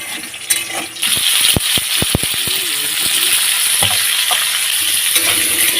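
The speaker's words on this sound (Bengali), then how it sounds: "বেগুনটা ভাজা হয়ে এসছে" Eggplant (brinjal) slices seasoned with turmeric and salt sizzle steadily in oil in a pan while shukto is being cooked, with a few sharp clinks and scrapes of a utensil near the start.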